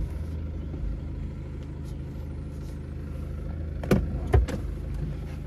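A BMW 118d M Sport 2-litre 150 hp diesel with ZF8 gearbox idles with a low steady rumble, then two short sharp bursts as the starter cranks and the engine catches, close and without talk.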